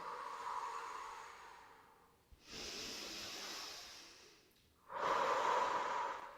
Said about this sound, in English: here we're going to take 1 deep breath